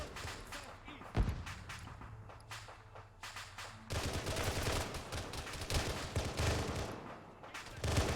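Rapid bursts of gunfire from the Halo-themed OPTRE mod for Arma, crackling in repeated volleys with a sharp loud shot early on and heavier sustained firing in the second half, with voices talking over the combat.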